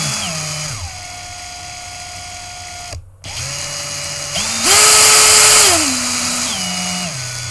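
An electric drill spins steadily close by, its whine dropping and rising as the speed changes, with a brief cut-out near the middle and a louder high-speed burst afterward.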